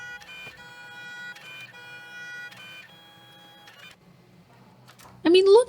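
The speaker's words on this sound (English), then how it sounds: "I bought this photo printer a few years ago, and although it doesn't get much regular use, it prints tiny things so crisp." Compact photo printer making tiny photos, sending out repeated rhythmic mechanical whirring bursts with bright tonal buzzing as the paper feeds through, close up, ending in a sharper squeal.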